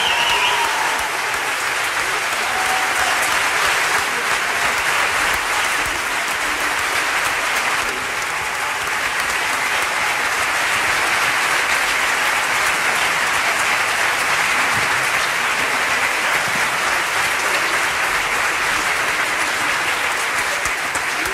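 Loud, sustained applause from a live concert crowd for two musicians on an acoustic tour, continuous dense clapping throughout, with faint cheering mixed in.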